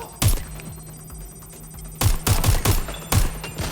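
Bursts of gunfire in the video game Watch Dogs Legion: one sharp volley early, then a rapid string of four or five shots, then another loud burst. The shots are close and punchy, with a steady electronic hum underneath.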